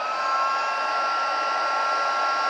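An embossing heat gun blows hot air in a steady, loud, hissing whoosh, constant and close with no talking.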